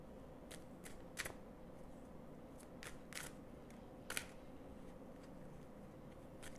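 Soft, intermittent riffling and snapping of tarot cards being shuffled, quiet and close, in short irregular bursts.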